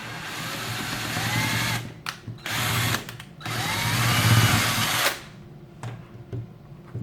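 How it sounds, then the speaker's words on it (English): Hand drill with a 3/16 bit drilling into metal, a loud sustained whine in several bursts of one to two seconds separated by short pauses, close up with no talk. "take your 3/16 in your hand drill and very gently"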